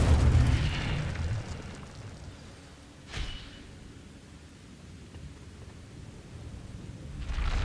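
An Incendio fire spell is cast in the Hogwarts Legacy game, a loud rumbling whoosh that fades out, then a sharp crack in the middle and another swelling burst of flame at the end.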